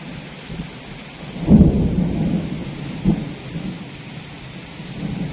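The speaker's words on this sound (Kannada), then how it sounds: "ಗುಡುಕ್ತಾ ಇದೆ ಫ್ರೆಂಡ್ಸ್" A low rumble of thunder rolls in over steady rain, with a second softer rumble a moment later; no one speaks.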